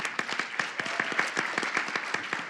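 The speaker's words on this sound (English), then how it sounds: "Give this lady a round of applause." Short burst of audience applause, a quick patter of distinct hand claps from a modest crowd, fairly close and steady for a couple of seconds.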